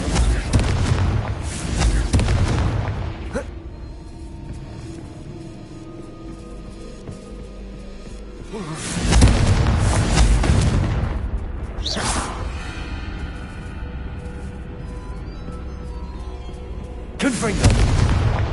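Confringo blasting spells cast in Hogwarts Legacy: three loud, sharp explosive bursts with whooshing tails, spaced several seconds apart, separated by quieter rumbling and ringing decay, with some voices in between.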